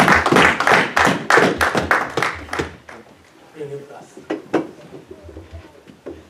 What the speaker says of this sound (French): Une minute d'acclamation.